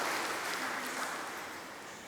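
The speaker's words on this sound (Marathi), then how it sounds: "टाळ्या वाजवा" Applause from a church congregation after a Mass announcement, a soft diffuse wash of distant clapping that fades gradually over two seconds.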